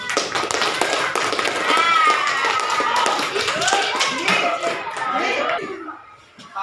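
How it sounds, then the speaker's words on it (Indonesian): A class of children clap their hands together in a steady burst of rapid taps, with young voices chattering and calling out over the applause throughout. "tepuk tangan dulu nak"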